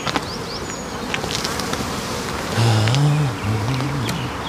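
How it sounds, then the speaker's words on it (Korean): Honeybees buzz in a steady swarm around a beehive outdoors during acacia honey harvesting, with a louder, nearer droning pass in the middle as bees circle close, then settling back to a dense background hum. "벌이 벌통 안으로 들어갈지 한번 보겠습니다."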